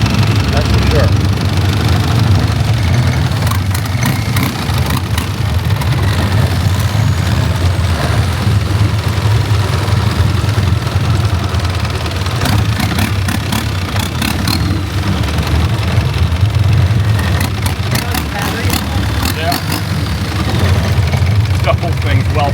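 A turbocharged engine, probably diesel, on a vehicle on a day trip in Ao Nang, Thailand, idles with a loud, steady low rumble and vibration throughout. Faint ticking comes through now and then.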